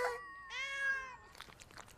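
A cartoon cat in an animated series gives two clear meows in quick succession, the first short and the second longer and drawn out, followed by faint rustling.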